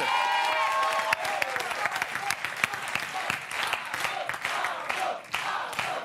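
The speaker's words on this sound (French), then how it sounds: "Sous les applaudissements hystériques du public" A TV quiz show studio audience claps steadily throughout, a dense, continuous wash of applause with a few sharper claps standing out, a faint voice briefly underneath at the start.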